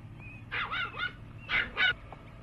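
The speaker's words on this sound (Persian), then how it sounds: "تو نمیتونی سگی به اون بزرگی رو تو قطار سوار کنی پسر جون" A large dog barks in two short bursts of harmonic, yelping calls, fairly close, with quiet background hum between them and no talking.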